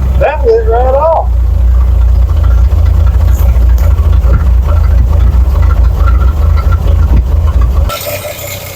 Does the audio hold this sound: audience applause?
no